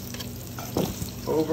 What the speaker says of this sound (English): you can call it saute, but you're pan frying at this point